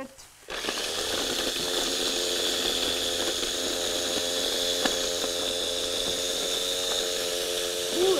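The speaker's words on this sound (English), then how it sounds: "I'm going to grind fresh ginger" An electric grinder chopping fresh ginger for raw vegan granola bars, switching on abruptly into a loud steady high-pitched whine that runs continuously, close to the microphone, with no talking.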